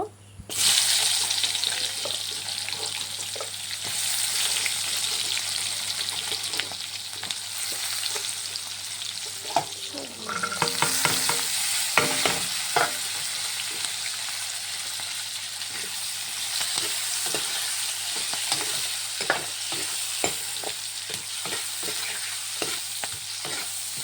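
Onion fries in a kadai on a home stove, a continuous close sizzle broken by repeated scraping and clattering stirs, with a brief burst of running water in the middle.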